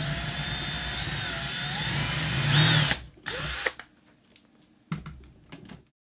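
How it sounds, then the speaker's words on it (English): A power drill fitted with a 5/16 inch bit enlarges the charging-jack hole on a Bachmann garden scale Climax locomotive: close, loud, steady whining for about three seconds, then a few short bursts before it stops. "So we're enlarging it using a 5/16 inch drill bit, which should be just about the right size."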